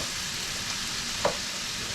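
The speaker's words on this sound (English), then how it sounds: "let me stir up the vegetables a little bit" Vegetables for chicken fajitas fry in a pan with a constant, even sizzle, and a single brief scrape of stirring stands out in the middle.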